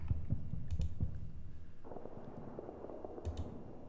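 Keys clacking on a computer keyboard, a short cluster of close, muted taps followed by a pause and a couple more quick strokes.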